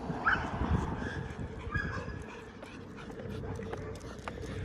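An excited dog whimpers and gives a few short barks close by on a walking tour through a Sebring, Florida neighborhood, with people talking over the steady outdoor background.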